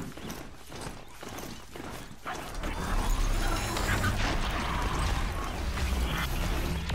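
Horse hooves clopping in the video game Horizon Zero Dawn, a steady run of hoofbeats under busy game noise and rumble, growing louder and denser in the second half.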